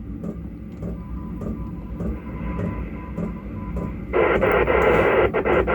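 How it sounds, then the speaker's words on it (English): Steady radio hiss and hum with faint CTCSS tones from a Yaesu FT-290 ham radio, then a louder burst of broadband static near the end as the repeater transmission opens on the channel. "checking access to the Rayleigh Regis repeater"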